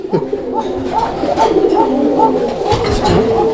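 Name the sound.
pigeons cooing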